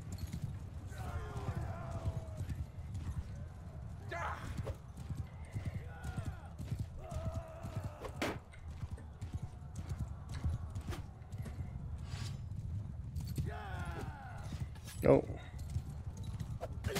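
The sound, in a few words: horse hooves clip-clopping in video game Mount and Blade Bannerlord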